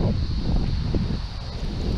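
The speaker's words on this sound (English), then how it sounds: "Oh, it's getting super windy." Strong wind blows at a dam during fishing, a loud, steady rumble of gusts buffeting the microphone with low roaring noise throughout.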